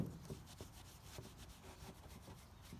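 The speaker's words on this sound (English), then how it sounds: "I'll go back and buff." Quiet, steady back-and-forth rubbing on a hand-rubbed wood finish, a soft rhythmic buffing stroke repeating about twice a second, close and faint with no talk.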